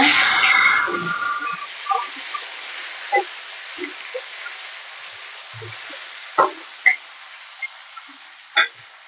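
Tomatoes hit a hot pan of lightly fried ginger while cooking a moong dal with drumstick greens, giving a loud initial hiss that fades into soft crackles and scattered pops.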